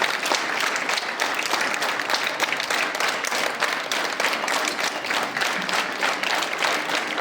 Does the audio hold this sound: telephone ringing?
no